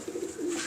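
A pigeon cooing nearby, two soft low throaty coos in quick succession, brief and fairly quiet.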